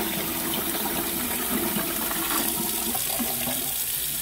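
Water rushing and gurgling down a kitchen sink drain through a repaired galvanized drain line, a steady loud gush that continues without a break.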